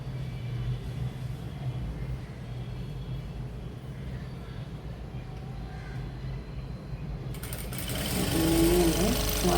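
A sewing machine stitches a pa neck blouse design, giving a continuous low mechanical drone with fast needle chatter that swells louder toward the end.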